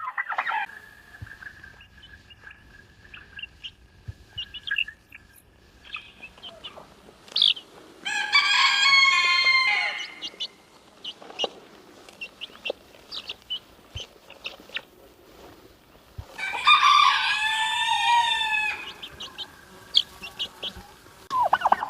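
Turkeys and other poultry on a forest homestead in Belarus, including a big red turkey, break out in two loud bursts of gobbling and crowing, with scattered clucks and quieter calls in the gaps between.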